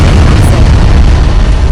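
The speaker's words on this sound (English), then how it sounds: "has a bomb attached to it, which explodes almost immediately and makes a huge hole in the floor of the elevator" A bomb explodes inside an elevator in a Skibidi Toilet animation, one loud, sustained, bass-heavy blast that roars on for nearly two seconds before cutting off abruptly.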